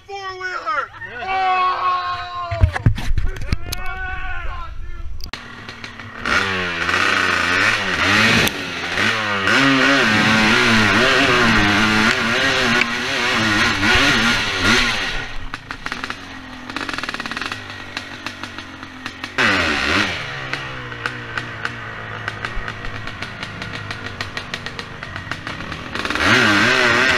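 Yamaha YFZ 450 quad engine at an extreme hill climb event in Wellsville, Ohio, revving hard with rising and falling whines, loud and close, under excited crowd voices and shouting.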